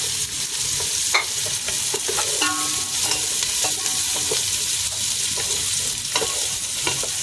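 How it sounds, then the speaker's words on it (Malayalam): Green chillies frying in a pan for Kuwaiti majboos chicken, a steady sizzle with repeated scraping stirs of a spatula, close and continuous. "എന്നിട്ട് നമുക്ക് നല്ലവണ്ണം ഒന്ന് ഇളക്കി കൊടുക്കാം"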